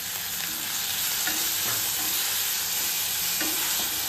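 Tomato sizzling and frying steadily in hot oil tempered with mustard seeds, curry leaves, ginger paste and asafoetida for a drumstick gravy, a dense continuous crackle with occasional stirring, close and loud throughout.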